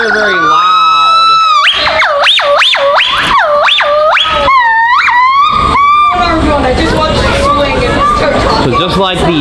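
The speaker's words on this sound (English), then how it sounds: "the white-cheeked gibbons also make these really loud hooting noises" White-cheeked gibbons at a zoo give loud, close hooting calls, a quick run of rising whoops that breaks into a rougher chorus of overlapping calls toward the end.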